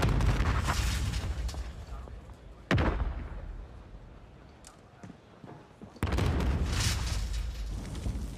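Grenades exploding in a Call of Duty esports match, Chicago Huntsmen vs Florida Mutineers, with two sharp booms that each decay slowly, one midway and one later, amid broadband game noise.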